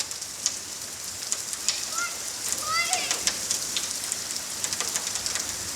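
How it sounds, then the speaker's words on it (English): Heavy rain pours down outside as a dense, continuous hiss with scattered splatters and drips close by, and faint brief chirp-like sounds come through the downpour. "Now it's raining even harder, guys."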